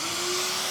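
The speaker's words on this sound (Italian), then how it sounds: "Aspirapolvere." A vacuum cleaner runs close and loud with a steady whining drone and a constant motor hum, used on an old piece of furniture being refinished.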